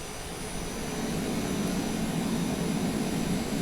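Reverse thrust from the jet engines of a Challenger 350 in a flight simulator video game, a steady broadband roar that builds slightly after the first half second and holds, close and alone.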